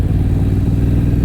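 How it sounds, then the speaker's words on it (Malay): Moto Morini X-Cape 1200 motorcycle engine running steadily up close, a low throbbing rumble with a quick-shifter gear change that barely breaks its continuous beat; no talking. "Motor ni ada quick shifter so tak perlu tarik clutch pun kita dah boleh masuk"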